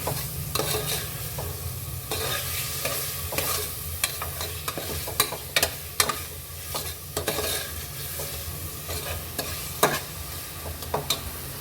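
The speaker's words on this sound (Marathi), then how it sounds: "छान आता आपला मसाला शिजत आहे" Tomato masala with a little jaggery sizzles and fries in a pan while a spoon stirs and scrapes at it repeatedly, with close, irregular clicks over a steady low crackle.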